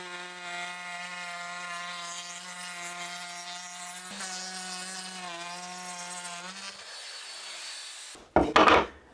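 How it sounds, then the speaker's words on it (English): Small wood router with a round-over bit shaping the edges of wooden display stool parts: a steady high whine with harmonics, dipping briefly mid-cut, then winding down, followed by a short clatter at the end. "so I'm going to grab a round over bit, get it stuck in my little router and just round over the edges"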